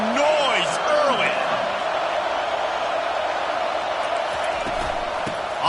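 Roar of a college football stadium crowd at an NCAA game, a steady broad wash of noise heard under a commentator's talk, with a few whistle-like tones early on.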